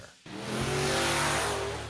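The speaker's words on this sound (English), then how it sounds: "Here comes Great Clips Mohawk Warrior" Great Clips Mohawk Warrior monster truck at a Monster Jam event, its engine surging in from near silence to a loud, sustained roar that rises in pitch as it revs and arrives.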